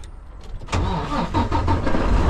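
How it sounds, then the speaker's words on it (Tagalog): A semi truck's diesel engine cranks and catches, then settles into a loud, steady rumbling idle close by, with no talk over it. "Tapos i-start natin ang truck."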